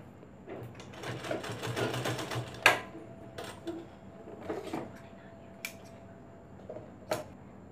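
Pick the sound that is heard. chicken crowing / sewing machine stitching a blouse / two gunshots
sewing machine stitching a blouse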